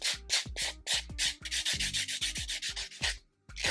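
Nails being filed and buffed by hand: rapid, regular rasping strokes up close, a steady back-and-forth rhythm with a brief pause near the end.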